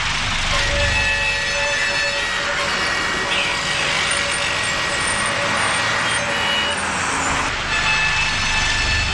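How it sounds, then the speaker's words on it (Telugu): A bus comes up along a busy road. A loud, continuous rumble of the engine and traffic runs throughout, with tonal squeals and a brief horn-like toot partway through. "సర్లే, బస్సు వచ్చేస్తోంది."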